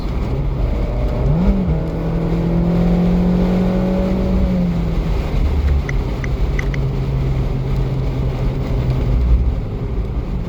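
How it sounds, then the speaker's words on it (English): An Abarth 595C Turismo engine drones steadily and revs up once with a rising exhaust note, then holds a sustained rumble with faint clicks, no talking. "it's especially the exhaust system that gives you the dominant sounds"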